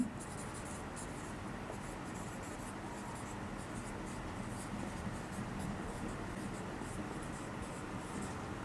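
Pen or marker scratching out a physics equation during a vector lecture, quick repeated strokes ticking over a faint, steady room hum.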